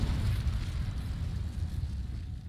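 Incendio fire spell being cast in the video game Hogwarts Legacy, a steady low roaring whoosh of flame that holds for a couple of seconds, moderately loud, with no one speaking.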